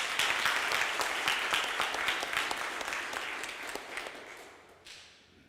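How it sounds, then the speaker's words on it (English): An audience at a middle school academic awards ceremony claps for the students, dense and steady applause that gradually thins and dies away near the end. "One more round of applause for all of our students."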